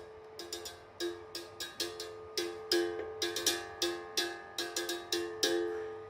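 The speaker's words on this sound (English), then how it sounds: "It's called Berimbau." A berimbau, bright and metallic, twanging in a quick, steady capoeira rhythm, with ringing pitched strikes and buzzing accents, played alone.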